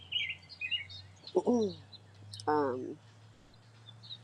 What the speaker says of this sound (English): you guys can probably hear a lot of birds